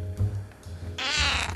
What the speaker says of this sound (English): Where's that kitty cat?